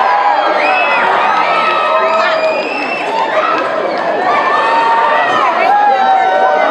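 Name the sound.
crowd screaming and cheering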